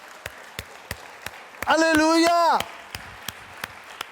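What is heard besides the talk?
church congregation applauding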